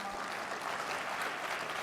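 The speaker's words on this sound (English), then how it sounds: "Let's give them a round of applause." A conference audience applauds the event's sponsors with a steady, fairly quiet spread of clapping from a large room, continuing evenly for about two seconds.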